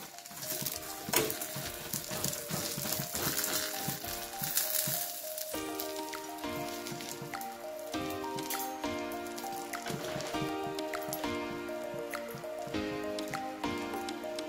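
A chapati for an egg roll roasts on a hot oiled pan, giving a steady crackling sizzle with fine pops, fairly close and continuous throughout, with background music running underneath.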